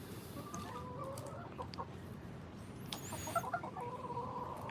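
Chickens clucking softly around a person outdoors, a few brief calls rising over a steady background hum, with a louder cluck near the end.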